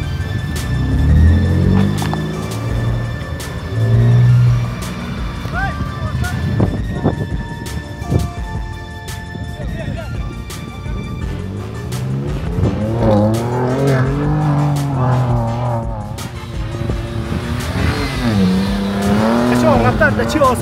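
Ford Ranger Raptor pickup driving off-road, its engine rising and falling through several revving surges with tire noise, loud and close, while someone speaks over much of it.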